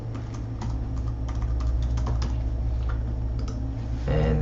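Rapid, steady keystrokes on a computer keyboard as a login email and password are entered, close and continuous under a constant low hum, with a slightly louder burst of keys near the end.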